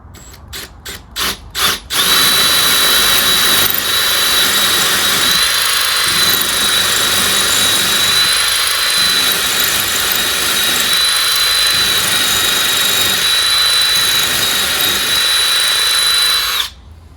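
Power drill boring a hole in an exterior wall for an outdoor hose bibb, a few short trigger bursts followed by one long, loud, steady whine of about fifteen seconds close by.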